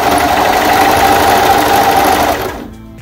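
A sewing machine stitches fabric in a loud, steady whirring run at close range, then slows and stops near the end.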